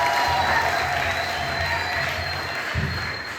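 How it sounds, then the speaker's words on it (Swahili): A church congregation clapping hands in thanks to God, a dense burst of applause that is loud at the start and gradually fades over a few seconds, with one louder clap near the end. "Naomba tumpigie Mungu makofi"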